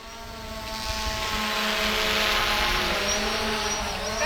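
Three drones hovering overhead during a fire-fighting test with retardants and water, giving a steady high buzzing drone with wavering tones that swells slightly louder over several seconds, with no talk.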